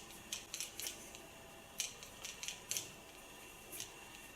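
Scissors snip hair during a straight bob haircut with a nape shave, giving a few close, crisp clicks in small clusters over a faint background.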